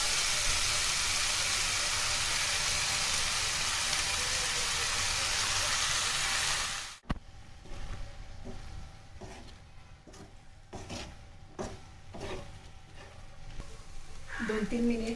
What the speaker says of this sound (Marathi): दोन 3 मिनिट मी भात चांगला परतवून घेतलेला आहे